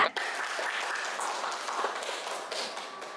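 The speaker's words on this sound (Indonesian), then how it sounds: "Mari kita berikan tepuk tangan" A short burst of applause from a small group in a classroom, steady clapping lasting a few seconds with a faint voice underneath.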